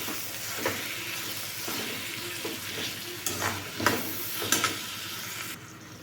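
Bitter gourd curry with jaggery being pressed and stirred in a pan with a spoon: a continuous soft sizzle broken by several louder scraping clinks of the spoon against the pan.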